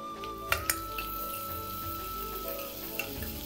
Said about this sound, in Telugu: ఇది వేగంగానే ఇందులోకి ఉల్లిపాయలు వేసేస్తాం.